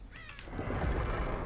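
Crows caw in a video game, with a few sharp calls near the start followed by a rising rumble of game noise.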